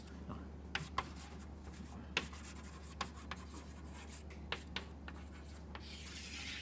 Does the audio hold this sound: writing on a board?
yes